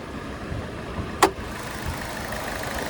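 A 2016 Chevy Sonic RS hatchback's 1.4-liter turbo four-cylinder idles steadily nearby, a smooth mid-pitched hum with one sharp click cutting through partway.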